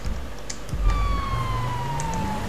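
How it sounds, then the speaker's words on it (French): A police car siren in the video game GTA V wails with a sliding tone that sweeps steadily down, loud and close over a constant low engine-like rumble. "On va couper la sirène."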